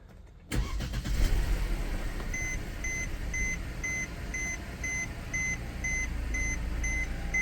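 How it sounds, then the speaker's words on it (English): A Mercedes-Benz E250 with the M271 engine starts up after a spark plug change: a sharp crank and catch, then a steady, fairly loud idle, with a repeating electronic chime beeping throughout. "This is genuinely the first time that I'm starting up the car after doing all of that."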